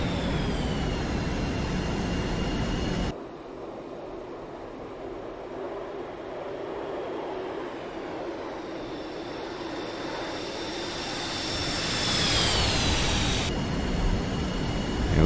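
An F-5E Tiger II jet in DCS on its landing approach, a steady engine roar and whine that drops after a few seconds, then rises again into a louder rushing swell near the end.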